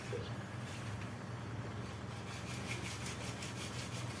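A ceiling panel is sanded by hand, giving a steady, close, gritty rasp that rubs on without pause at a fairly low level.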